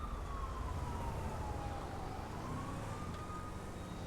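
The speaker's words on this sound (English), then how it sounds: "Hearing some sirens." Police sirens in the video game GTA 5 wail in the distance, a slow rising and falling tone over steady engine and road noise, with no talking.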